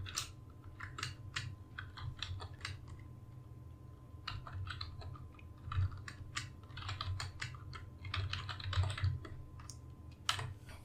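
Keystrokes on a computer keyboard tap out in quick, irregular bursts with short pauses, fairly close and moderately quiet, alone over a low steady background hum.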